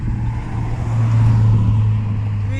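Steady road traffic rolls past nearby during an outdoor meditation, a continuous low engine rumble and tire drone that swells slightly midway, with wind in the background and no talking.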